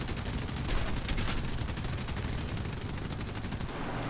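Aircraft machine guns in War Thunder rattle in one long, unbroken burst of rapid fire, fairly quiet and even throughout.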